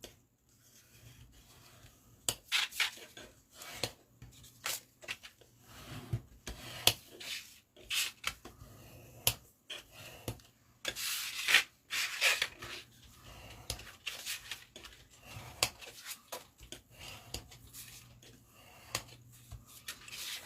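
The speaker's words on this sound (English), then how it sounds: "now I'm just going to burnish those flaps down" Paper pocket flaps on a handmade folio being burnished down with a tool, soft scattered rubbing and scraping strokes in short bursts, close and quiet.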